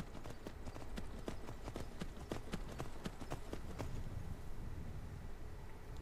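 Horse hooves clip-clop steadily in a video game, a brisk even rhythm of moderately close, fairly faint steps that fades out partway through, with no talk.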